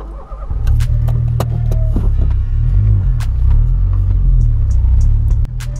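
A Volkswagen Polo car engine starts, then settles into a steady, loud, close idle rumble with a deep throbbing low end, running on for several seconds with no talking.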